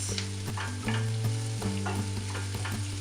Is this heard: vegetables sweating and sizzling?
yes